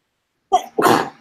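A single sharp sneeze bursts out after silence, a quick inhaled catch followed by a loud, breathy explosion up close.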